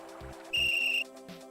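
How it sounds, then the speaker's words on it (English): A single steady, shrill whistle blast, roughly half a second long, in the Simon the Sorcerer adventure game, standing clearly above a low game soundtrack and ending abruptly. "What's with the whistle around your neck?"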